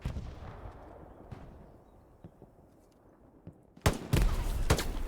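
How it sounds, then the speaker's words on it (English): Grenade blasts and gunfire in the WWII shooter Hell Let Loose on the Carentan map: faint, sparse distant shots at first, then several loud, sharp bangs bursting in close together near the end. "Sergeant Panda throwing grenades at him."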